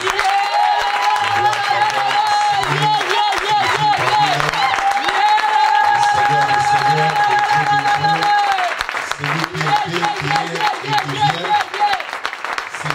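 Church congregation applauding to acclaim the king of kings, sustained dense clapping and cheering that carries on for over ten seconds while voices ring out above it.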